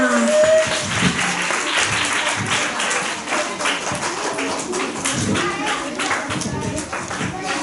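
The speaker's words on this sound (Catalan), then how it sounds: "Un aplaudiment, no?, abans de començar" Lively applause from an audience, many hands clapping in a steady, slightly uneven patter, with a few voices and children's sounds faintly mixed in.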